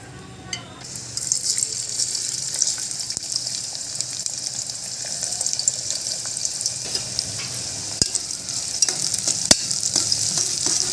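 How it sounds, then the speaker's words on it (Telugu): Onions frying in oil for a home-style mutton curry crackle loudly and steadily, with scraping stirring strokes and a few sharp clicks of the spoon against the pan, close up and without talk. "ఆయిల్లో ఉల్లిపాయలు వేసుకొని జోరగా వేయించుకోవాలి"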